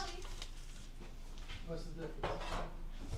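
Ravioli dumped onto a tray in a kitchen, a brief clatter and rustle of pasta and paper under someone talking close by.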